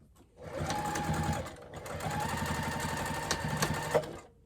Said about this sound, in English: I'm gonna go ahead and sew this with a 3/8 inch seam allowance.